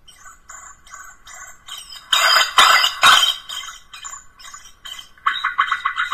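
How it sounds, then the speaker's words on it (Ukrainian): Harsh, raspy bird distress calls blare from a sonic bird repeller's loudspeaker in repeated bursts, with louder squawks midway and a steady chattering call near the end. "Регулюємо гучність пташиних криків."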